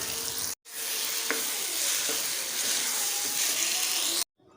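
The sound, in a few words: eggplant frying in spice masala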